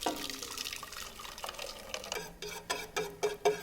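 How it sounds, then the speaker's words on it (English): Lemon custard being whisked in a pot, soft liquid swishing building into sharper rhythmic whisk strokes against the pot toward the end, fairly quiet and without talk. "keep whisking and helping it to become that gorgeous velvety custard cream"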